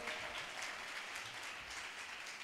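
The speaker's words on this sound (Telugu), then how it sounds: "చప్పట్లు కొట్టండి గట్టిగా ఒకసారి" A church congregation at a Sunday worship service claps together in a steady, even roar of hands that stays level for a couple of seconds, with no voices rising above it.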